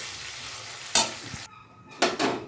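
Curry is stirred in a sizzling pan, a low frying hiss punctuated by a few sharp scraping strokes of a spoon against the pan.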